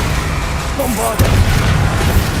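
A Bombarda blasting spell in the video game Hogwarts Legacy goes off as a sudden deep boom midway, over a dense rumbling battle bed with a brief whooshing swirl just before it.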